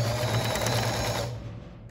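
A sewing machine stitches ric-rac trim onto a cotton dish towel, a short close whir that fades out after a second or so.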